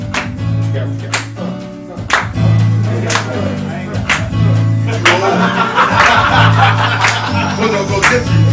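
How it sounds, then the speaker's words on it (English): Worship congregation clapping along in rhythm over a live band's steady music, the claps loud and regular throughout, with some cheering and voices mixed in. "Come on, clap with us."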